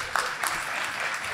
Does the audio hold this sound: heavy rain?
no